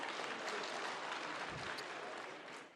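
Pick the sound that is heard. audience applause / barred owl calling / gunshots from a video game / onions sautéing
audience applause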